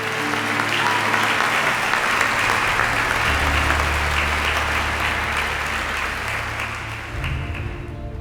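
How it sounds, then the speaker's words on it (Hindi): Audience welcoming a guest named Mr. Inderi Dasan with loud, continuous applause, steady dense clapping filling the room for several seconds before easing slightly near the end. "सब तालियों के साथ मिस्टर इंदेरी दासन का स्वागत कीजिए।"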